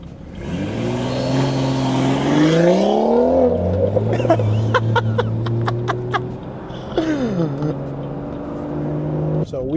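A Stage 2 tuned BMW B58 inline-six exhaust rises and falls through loud revving pulls while driving in traffic, with sharp crackles and pops in the middle, and a voice talking over parts of it.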